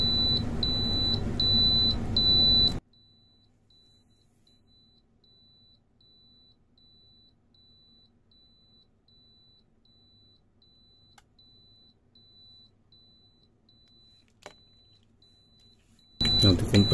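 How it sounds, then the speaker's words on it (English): A Carel refrigeration controller alarm beeps in a loud, evenly spaced series of sharp electronic tones for a few seconds, then cuts off into near silence with a faint hum, before the beeping returns at the very end. "Once you encounter this alarm,"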